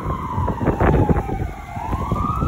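An ambulance or fire truck siren wails past on a snowy street in Canada, its tone sliding down and then rising again, loud and close over the hum of surrounding traffic.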